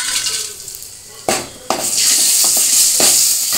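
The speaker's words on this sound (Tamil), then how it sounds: "எண்ணெய் காஞ்ச உடனே கடுகு போட்டுடணும். கடுகு போட்டவுடனே வரமிளகாய் உங்களுக்கு தேவையான அளவு," Mustard seeds and dried red chillies hit hot oil while tempering for a goat blood poriyal, starting with sharp bursts of sizzle that settle into a loud, steady frying hiss, with a few clinks of a utensil.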